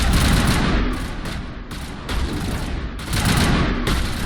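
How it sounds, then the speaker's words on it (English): Dense bursts of rapid gunfire from Mass Effect 1 crackle and rattle in loud, overlapping volleys, easing briefly in the middle before another heavy barrage. "The audio sync on the guns is still pretty delayed."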